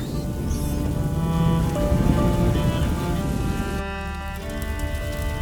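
Steady, continuous rainfall in the video game A Plague Tale: Innocence hisses throughout, with a soft sustained tone humming beneath it and no one talking.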